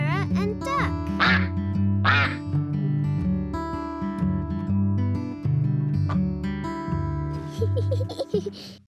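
A cartoon duck quacks several times in a lemon cafe scene from Sarah and Duck, with bright quacks early on and again near the end over steady music and a speaking voice.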